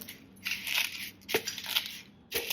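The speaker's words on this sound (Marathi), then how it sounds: "या शेवाया थोड्याशा लांब असल्यामुळे याला आपण असं थोडंसं दाबून याचे थोडेसे तुकडे करून घ्यायचे आहे" Long dry vermicelli (shevaya) is pressed by hand and snapped into small pieces, giving several close, brittle crunching and crackling bursts separated by short pauses.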